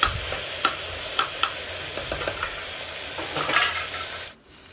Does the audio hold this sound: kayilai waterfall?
no